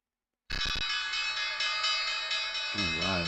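A stock market opening bell rings loud and steady, a sustained metallic clang that starts abruptly and holds without pause, with a brief clatter at the onset and a voice coming in near the end.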